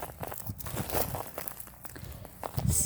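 Footsteps crunch on icy ground, a series of irregular crisp crackles and crunches close by, with some faint rustling and no speech.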